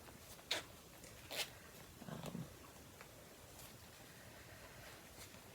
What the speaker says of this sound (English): And now the zipper's gonna get stuck.